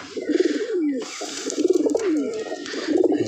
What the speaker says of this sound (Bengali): এটা মাদি কবুতর একটা